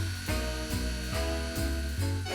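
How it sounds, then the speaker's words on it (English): Toasted skinned hazelnuts and caster sugar blitzed in a food processor, a loud, close motor whir with rhythmic pulsing surges roughly every half second, no voices. "I'm grinding 100 grams of skin-toasted hazelnuts with 125 grams of caster sugar"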